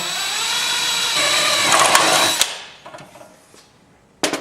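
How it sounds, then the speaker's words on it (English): A power drill drills holes in a Can-Am 6x6 heat shield, whirring loudly for about two seconds, then winds down with a few mechanical clicks and a brief final burst. "now that we've got these holes drilled"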